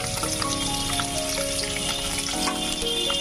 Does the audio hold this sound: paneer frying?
yes